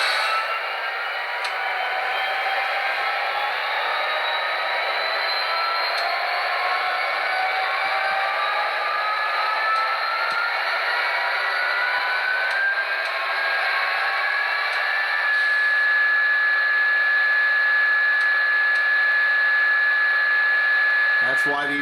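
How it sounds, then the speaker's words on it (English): A model 'Screamer' diesel locomotive runs in head-end power mode at full blast, giving a loud, sustained high-pitched whine with tonal layers that rise and hold steady for over twenty seconds. "That's why these things were nicknamed Screamers. Always running in full mode, full blast."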